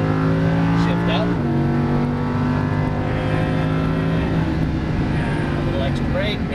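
A Lamborghini Huracan LP610-4 V10 engine revs steadily on a race track, its tone dropping sharply as it shifts up, then climbing again before further steady droning under faint background noise.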